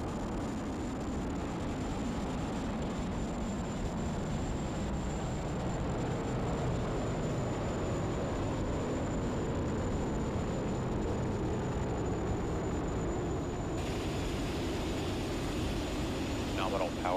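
SpaceX Falcon 9 rocket climbing during the Crew 8 launch from Florida, a steady, dense roar of engine noise that fills the whole clip without letup, with a commentator's voice running over it.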